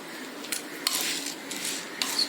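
A spoon scrapes and clinks against a pan while lentils are dry-roasted for idli podi, a handful of quick, close metallic strokes in an irregular rhythm, with no one speaking.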